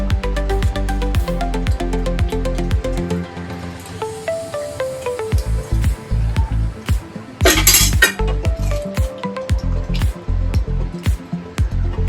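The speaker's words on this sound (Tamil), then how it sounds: "நம்ம வறுத்து வச்ச பன்னீரை இதுல சேர்த்துக்கலாம்." Fried paneer going into a bubbling masala gravy in a metal pan, with repeated clinks and scrapes of a spoon against the vessel, a brief wet splash, and steady cooking noise throughout.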